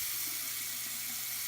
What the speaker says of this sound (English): he put in one of these faucets that I don't have to touch